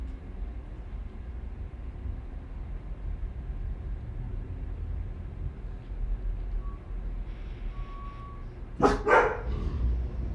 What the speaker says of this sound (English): You don't bark.